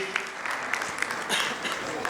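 Audience applause at a cooperative banking conference inauguration: steady, fairly faint clapping from a crowd in a hall, continuous throughout with scattered sharper claps.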